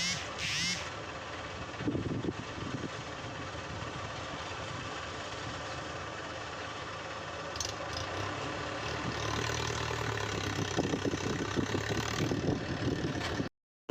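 Several tractors idle and rumble together at a soil-digging site where a JCB works, a steady low engine drone with clatter and faint vibration throughout, quiet voices at times.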